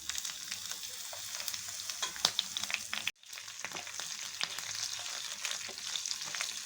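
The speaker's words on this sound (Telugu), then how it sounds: "ఆవాలు జీరా వేస్తున్నా అండి. శనగపప్పు, మినపప్పు, ఎండుమిర్చి, పచ్చిమిర్చి," Mustard seeds, cumin, chana dal, urad dal, dried red chillies and green chillies fry in hot oil as a tempering for curd rice, a soft close crackle with sharp pops and a brief break partway through.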